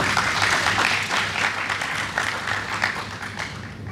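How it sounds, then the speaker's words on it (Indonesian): Worshippers in church clap together in a continuous, fairly loud burst of applause that holds steady for a few seconds, with a low hum underneath. "Tepuk tangan dulu Tuhan kita"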